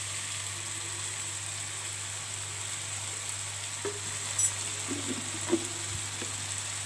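Tomato, garlic paste and spice powders such as coriander being sautéed in a pan for chicken dum biryani, a steady low sizzle with a few soft clinks of stirring, no voices.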